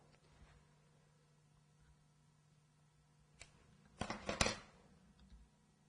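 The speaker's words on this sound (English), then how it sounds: "Take your scissors, cut it off at the top." Scissors snip through fondant during cake decorating, a short cluster of crisp, close cuts after a quiet stretch, with no talking.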